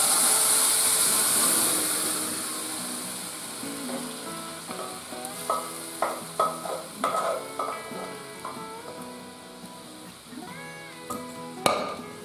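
Spices and dal frying in a pan for Rajasthani panchmel dal, a steady sizzle fading as a spoon scrapes and stirs in irregular clanks and knocks.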